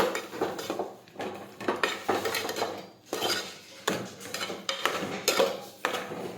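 Bottle gourd curry with sugar is sautéed in a pan, with a spoon scraping and clanking against the metal in a steady rhythm of repeated strokes, close and clear, with no speech.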